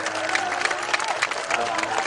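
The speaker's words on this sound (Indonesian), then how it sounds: "Tepuk tangan untuk Pak Her." A crowd applauds for the governor at a public event, brisk clapping with a murmur of crowd noise and faint voices mixed in, lasting about two seconds.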